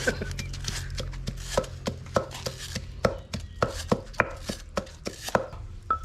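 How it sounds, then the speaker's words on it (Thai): A knife chops lemongrass steadily on a cutting board, about a dozen crisp, evenly spaced strikes under a low background hum. "ตะไคร้นี่ถ้าเกิดเราหั่นละเอียดหน่อยเนี่ยมันจะตำง่ายหน่อยครับ"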